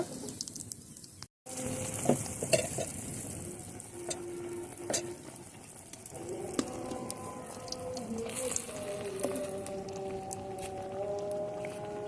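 Teler pitha, a Bengali rice-flour cake, fries in hot oil with a steady bubbling sizzle, interrupted by a brief silent gap early on, with faint tonal squeaks and light utensil taps.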